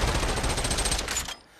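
A gun in the VR game Population One fired two-handed, letting off a rapid burst of loud automatic shots for about a second before cutting off abruptly, close and alone.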